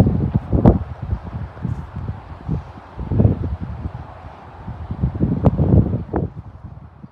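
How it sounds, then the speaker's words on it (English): Gusty wind buffets an upstairs deck ahead of a storm, a steady low rumble of microphone-level gusts swelling and easing over several seconds, with rustling in the background and no talking. "It's a little bit too windy and stormy."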